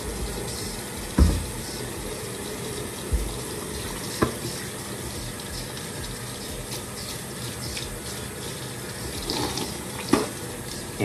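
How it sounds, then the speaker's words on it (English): Cup rinsed under a running bathroom tap, with a steady broadband rush of water flowing throughout and a few brief knocks and clunks of the cup against the sink, no talking. "always make sure you wash the cup out twice"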